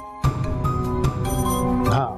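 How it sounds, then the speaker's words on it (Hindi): A mobile phone rings close by, repeating a bright, tonal ringtone several times in quick succession for about two seconds. "मोबाइल बज रहा है।"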